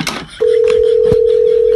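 After a phone call is hung up, a loud, steady, unbroken disconnected-line tone starts abruptly and holds to the end, following a brief burst of noise.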